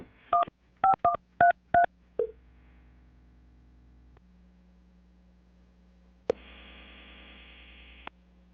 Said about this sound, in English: I'm going to dial the phone number right now